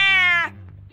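Cartoon Cat meowing in a cartoon-style scene, one loud drawn-out harmonic meow followed by a softer low tail fading out, alone without talk.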